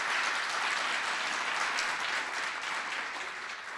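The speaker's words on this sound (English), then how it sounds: "join me in giving a round of applause to the startups we're going to be pitching tonight." Sustained audience applause at a startup demo day in Amman, a dense, steady wash of clapping that fills the room evenly and tapers only slightly near the end.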